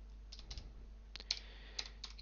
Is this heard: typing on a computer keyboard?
yes